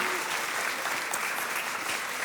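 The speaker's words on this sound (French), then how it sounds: "Est-ce qu'on peut applaudir, si vous voulez, toute l'équipe de louange" A church congregation claps for the worship team and praise choir, dense, even applause filling the whole stretch without a break.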